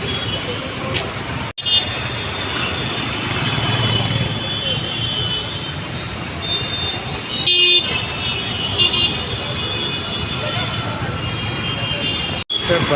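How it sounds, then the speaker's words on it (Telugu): Continuous roar of road traffic in Telangana with bus and car engines rumbling and a car horn tooting now and then, steady and fairly loud throughout. "ఈ ట్రాఫిక్ సౌండ్ పొల్యూషన్ ఇవన్నీ ఇరిటేటింగ్ అనిపిస్తాయి"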